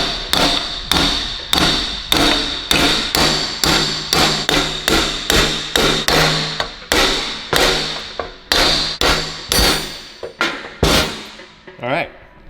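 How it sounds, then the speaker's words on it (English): Loud, sharp metallic hammer blows strike a seized turbo on a Ferrari V12 engine in a steady rhythm, a dozen or more hits, ending with a ringing clank. "I'm gonna grab a bigger hammer."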